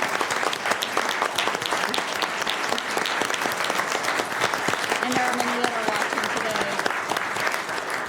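At a county Board of Supervisors meeting, a roomful of people claps loudly and continuously for public works staff, a dense, even applause that a speaker's voice briefly cuts across.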